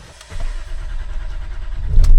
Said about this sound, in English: And now I'm gonna start the vehicle.